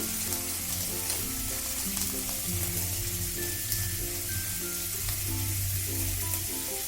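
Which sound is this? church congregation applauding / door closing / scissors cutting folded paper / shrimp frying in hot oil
shrimp frying in hot oil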